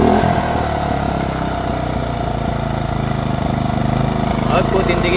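A Toyohama TY-5500i inverter generator with over two thousand running hours runs close by, giving a loud, steady mechanical engine chug with a brief rise near the end, while a person talks over it.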